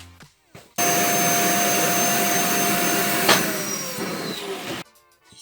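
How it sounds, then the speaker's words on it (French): A vacuum cleaner runs steadily for about four seconds inside a car, switching on abruptly and cutting off, with a brief louder surge partway through as the nozzle works over the interior. "Bon, je vais aspirer"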